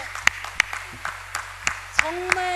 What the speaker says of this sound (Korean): 옆 사람에게 박수를 쳐보세요